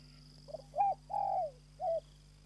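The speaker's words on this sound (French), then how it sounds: "les tourterelles de forêt ont un très joli chant" A forest turtle dove coos four times, one short note and then three longer, mellow ones, heard fairly close over a steady low hum with no voices.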